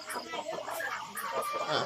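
Chickens on a village farm at night give soft clucks and faint crowing-like calls, close and steady through the whole short stretch.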